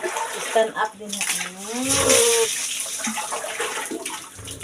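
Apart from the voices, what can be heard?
water running while bathing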